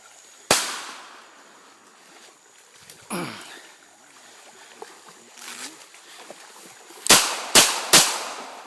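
Sharp, loud bangs ring out, one early and then three in quick succession near the end, echoing outdoors between quieter stretches.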